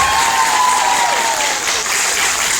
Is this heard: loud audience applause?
yes